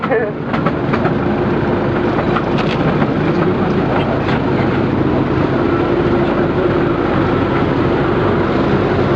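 The Driving Creek Railway's Rainforest Railway Express tourist train in Coromandel, New Zealand, rumbles steadily along the rails, loud and continuous, with a constant mechanical drone throughout.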